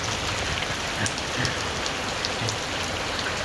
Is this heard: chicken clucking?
no